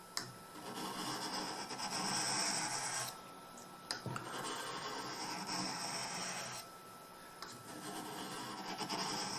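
A Swedish carving knife is drawn along a sharpening stone, giving close, steady rasping strokes in long passes with brief pauses between them.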